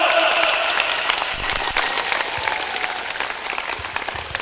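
An audience at a gathering applauds continuously, a thick wash of many hands clapping that stays loud and even throughout, with a few faint voices underneath.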